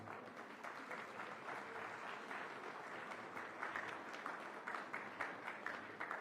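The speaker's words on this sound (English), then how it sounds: "Ladies and gentlemen, a huge round of applause." An audience applauds at the opening ceremony of Mumbai Climate Week after an MOU exchange: steady, even clapping from many hands, heard at moderate distance and fairly faint, with no speech over it.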